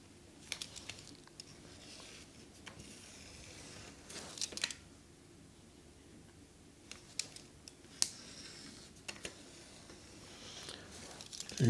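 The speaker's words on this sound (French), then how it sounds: "on détaille les futures bandes qui vont habiller l'insert précédemment réalisé" A knife or cutter slices puff pastry into strips in a quiet setting, making a scattering of short, crisp cuts and taps separated by pauses.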